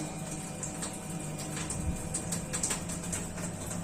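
Steady running hot tap water pours continuously from a gas boiler system, a broad, even rushing with faint clicks and taps on top, fairly close.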